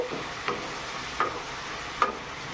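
A spoon stirs a potato and ridge gourd curry in a pan, giving three soft scraping strokes spaced about a second apart over a faint background hiss.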